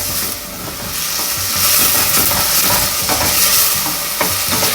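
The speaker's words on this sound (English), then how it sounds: "What we're doing right now is called sauteing." Food sautéing in a pan over high heat for Napoli sauce, a steady loud sizzle and hiss with scraping stirring noises throughout, no voices.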